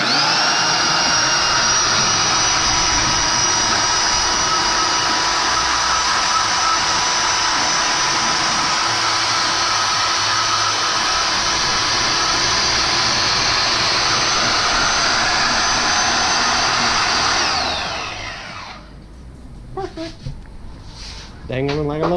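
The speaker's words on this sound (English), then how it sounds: "Don't press down so much. Yeah, just the weight of the saw." Saw cutting steel tube for a Jeep TJ rear tube bumper, a loud steady grinding whine running continuously for about seventeen seconds before cutting off into quiet shop noise.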